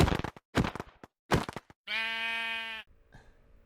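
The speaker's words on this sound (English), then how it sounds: "there's a sheep running on our farm" Sheep in the Minecraft video game: a sustained, loud, nasal bleat lasting under a second, following several crunchy blocky clicks and thumps, with a faint shorter sound after.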